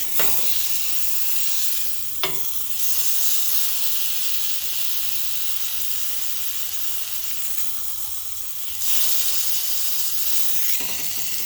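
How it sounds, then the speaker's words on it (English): Meat sears in a preheated cast iron skillet with a steady, close sizzle and hiss that holds throughout, with a few brief clatters as it is handled. "I'm cooking the second side. I'm also searing the sides as well."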